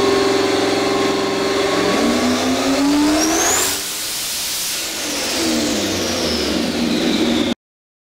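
A turbocharged LS V8 in a Foxbody Mustang roars on a dyno pull, very loud and close, its pitch climbing steadily, dipping briefly midway, then rising again before an abrupt cutoff, with turbo whine and hiss over the engine.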